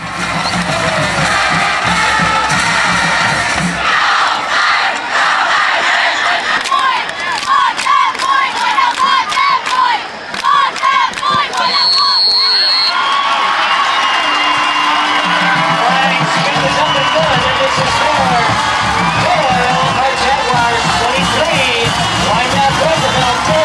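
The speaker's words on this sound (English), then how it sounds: "Park runs it in for a score. That's 6. The crowd goes wild." A high school football crowd cheers after a touchdown, a loud, sustained swell of shouting and whooping that surges and eases over about twenty seconds, with rhythmic chanting in places.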